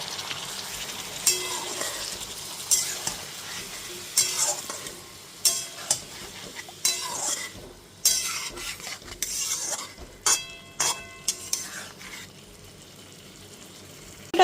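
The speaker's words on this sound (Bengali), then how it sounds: "তারপর সমস্ত সবজির সাথে মশলাটা খুব ভালো মতো কষিয়ে নেব।" A spice paste and vegetables fry in a pan while a metal spoon stirs them, giving a quiet sizzle under repeated sharp scraping and clanking strokes at irregular intervals, with no talking.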